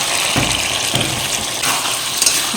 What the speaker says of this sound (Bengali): এবার এর মধ্যে ভেজে রাখা ঝিঙে আর আলুটা দিয়ে দেবো।